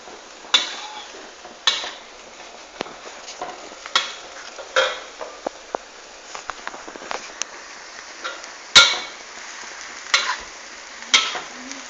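Chopped tomato stirred into ground pork giniling frying in a pan, a steady sizzle under repeated scraping strokes of a utensil against the pan, close and fairly loud, with no talking.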